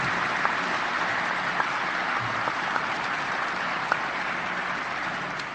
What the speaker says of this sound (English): please join me in a round of applause for all of them